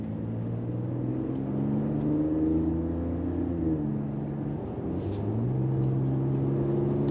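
Pickup truck accelerating on the road, heard from inside the cabin, with a steady engine drone rising and shifting in pitch over low tire and wind rumble, moderately loud and continuous.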